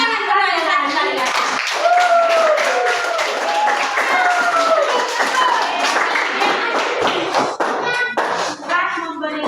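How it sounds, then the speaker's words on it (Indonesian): Schoolchildren in a classroom clap their hands in a rhythmic series of sharp claps while someone speaks and chants over them throughout. "Tepuk tangan semua yang satu-satu ya."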